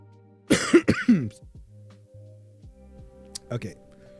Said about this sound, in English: Sorry, I had to like get rid of a nasty cough.